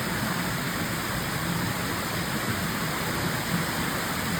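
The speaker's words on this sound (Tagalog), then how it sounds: "Lakas ng ulan" Heavy rain pours down during a stream trek at Tai Shing Stream, a dense, unbroken roar of water that stays loud and even throughout, with no talking.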